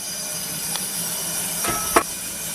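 A steam locomotive's boiler gives a continuous hiss as the water and steam valves are opened, with a few short, sharper hissing bursts rising over the steady background.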